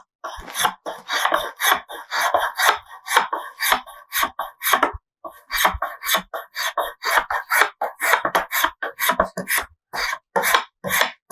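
A spokeshave takes rhythmic shaving strokes along a wooden spindle clamped in a shave horse, each pass a crisp scraping rasp with short pauses between, close and steady, with no talking.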